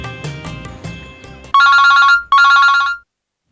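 A telephone ringback tone sounds during an outgoing call, two loud, even electronic ring bursts separated by a short gap, following a stretch of quieter room sound and movement.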